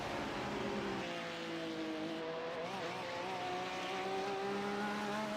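Several Porsche GT3 race cars in a racing video game at Sebring, their engines whining in steady high-pitched tones that rise and shift as they run close together, with no talk over them.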